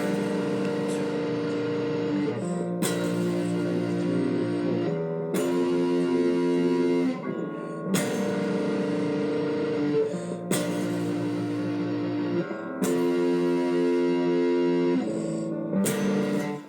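Electric guitar strumming the simple chorus chord progression of a song, with sustained, distorted chords changing every couple of seconds in a steady rhythm, loud and close with no talking.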